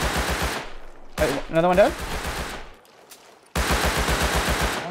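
Bursts of rapid automatic gunfire in the survival game Rust, loud and close, with a short gap in the middle where a player speaks briefly before the firing resumes.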